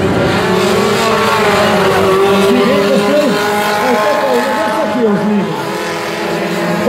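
Race car accelerating on a dirt track at a Brazilian amateur racing event in Jacaraípe, engine notes rising and falling as it revs, heard under an excited commentator talking throughout.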